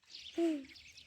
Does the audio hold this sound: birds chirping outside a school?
yes